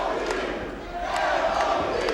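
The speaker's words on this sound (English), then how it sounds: "Listen to the chant by the crowd." A wrestling arena crowd chants in unison, a loud continuous roar of many voices filling the hall with rising intensity over a couple of seconds.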